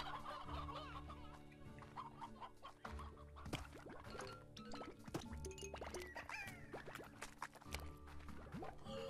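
Chickens cluck continuously in the farming video game Slime Rancher, with dense overlapping clucks and squawks in a busy, close barnyard clamour, no talk over it.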